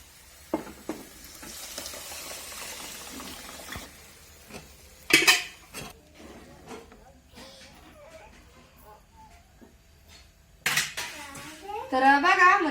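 Cooked moong dal goes into fried masala in a pan for dal tadka, with a sizzle and frying hiss, scattered clinks of a spoon against the pan, and a couple of louder bursts, while a person talks intermittently.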